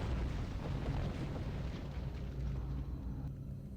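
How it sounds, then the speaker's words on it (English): Detonated explosive charges going off in the Star Trek Online game, a loud sustained rumbling blast with crackling bursts that holds steady for several seconds before easing slightly toward the end, with no voices. "we need to remote detonate those charges"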